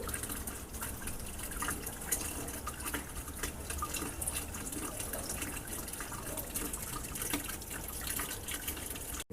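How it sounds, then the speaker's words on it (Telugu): Water flows steadily into a washing machine drum as it fills to its level, making a continuous, even rushing and splashing hiss with no speech over it. "లెవెల్ వరకు వాటర్ అవసరం అంత లెవెల్ వరకు తీసుకుంటుంది"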